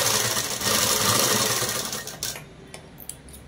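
A sewing machine stitches a dress cut from a saree, running steadily and close for about two seconds, then slowing into a few short, separate bursts.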